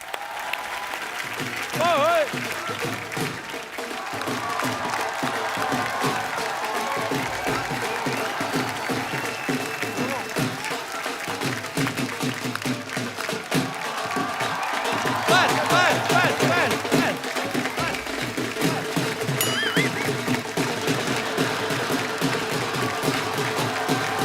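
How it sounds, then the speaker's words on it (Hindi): A studio audience at a comedy talk show applauds and cheers loudly and continuously, with whoops rising over the dense clapping while a host talks over it. "आप सबकी जोरदार तालियों के बीच स्वागत करना चाहूंगा"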